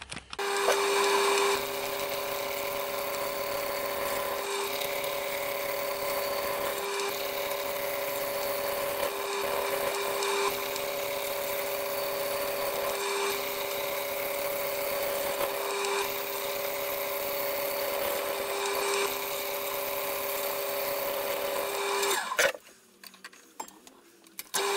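A wooden block spins on a woodturning lathe while a tenon is cut, giving a steady droning whir with a constant motor tone that runs for about twenty seconds before cutting off abruptly.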